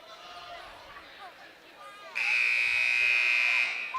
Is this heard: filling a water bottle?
no